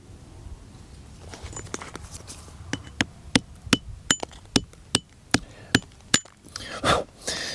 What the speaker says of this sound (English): you need to wallop it with a blunt end and then force it to split, which is what's happening here.